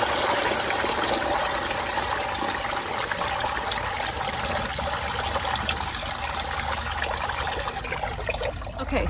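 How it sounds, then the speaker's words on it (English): Dirty water dripping and trickling steadily from four wool fleece trays lifted straight up to drain after washing, a continuous close watery patter with no voices. "I don't want to shake them or do anything else other than let the dirty water drip off"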